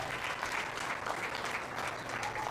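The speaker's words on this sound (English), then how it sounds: "Let's give them a nice round of applause on a good job." Applause for junior showmen at a county fair sheep and goat show, steady clapping from a crowd heard at a moderate distance, fairly faint and continuous.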